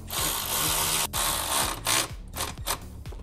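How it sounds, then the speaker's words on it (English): A power tool spins and ratchets in bursts while tightening bolts on a Stillen Gen 2 dual cold air intake on a 2015 Infiniti Q50, close and loud, with short pauses between runs. "I can get my power tool in there."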